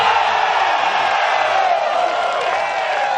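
Spectators at the Great Lakes Open disc golf tournament's final round let out a loud, sustained, close-up cheer and roar after a long birdie putt.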